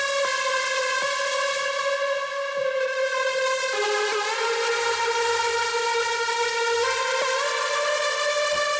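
A bright layered synth lead from an Access Virus synthesizer plays a sustained buzzing melody with rich stacked harmonics, shifting pitch across several notes, steady and loud with no talking.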